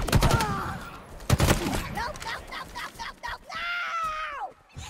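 Bursts of rapid gunfire and explosions from the Halo Infinite shooter video game, loud and close at the start, then scattered shots, with in-game voices and alien screeches, and a long wailing cry near the end.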